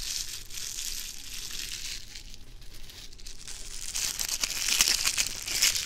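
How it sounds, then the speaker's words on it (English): Plastic crinkled right beside a binaural microphone, a continuous close crackling and rustling that swells louder toward the end, with no voices. "Just crinkling some plastic."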